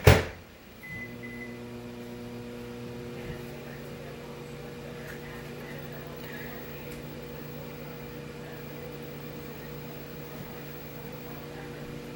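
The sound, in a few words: microwave oven running while toasting bread crumbs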